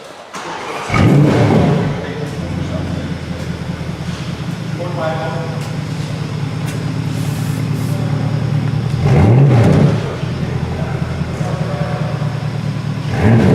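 A 2017 Porsche Panamera starts up with a loud burst, settles into a steady idle rumble, then gives a sharp exhaust rev around the middle before returning to idle, heard close and alone.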